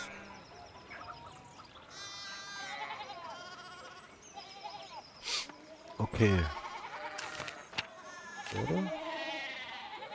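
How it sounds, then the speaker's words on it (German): Sheep in the video game Pentiment bleat amid game sounds while someone talks throughout; a few short, wavering bleats stand out near the middle and toward the end, moderately loud. "die Schafe."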